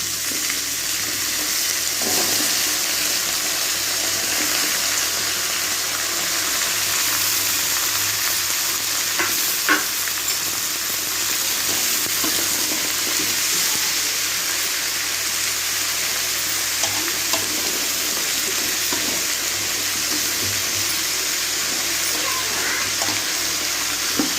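Ash gourd pieces sizzling and frying in a pan, a continuous dense crackle with occasional stirring clinks, close and steady with no talking.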